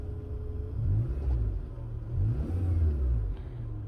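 A new compressor runs noisily with a low, rumbling motor hum that wavers and surges in uneven pulses, steady and fairly close, with no voices.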